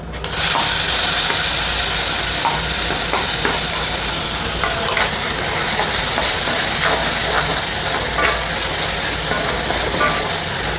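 Tomatoes sauté in a pan for a paneer sandwich, giving a loud, steady, close sizzle and hiss that runs unbroken throughout.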